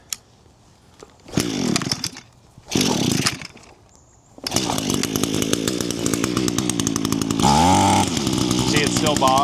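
An ECHO string trimmer with a bogging fault is pulled and sputters in brief bursts, then catches and runs loud and steady near the mic, its two-stroke engine buzzing with a rise in revs late on.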